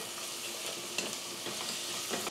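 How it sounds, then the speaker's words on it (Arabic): Onions sautéing in a pan, a steady close sizzle with light stirring clicks and scrapes scattered through it, and no voices. "والبصل بيتشوح كده"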